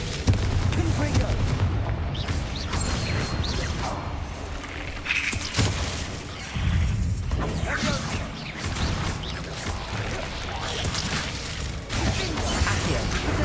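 Repeated Confringo blasting-spell explosions in Hogwarts Legacy, heavy booms and crashes rolling one after another across a loud, dense battle, with voices calling out over it.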